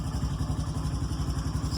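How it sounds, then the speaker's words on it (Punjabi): A motorcycle carrying three riders idles and chugs close by with a steady, even engine pulse for under two seconds before cutting off abruptly. "ਚਲੋ ਫਿਰ ਚੱਲੀਏ ਮੋਟਰਸਾਈਕਲ ਤੇ ਬੈਠੀਏ"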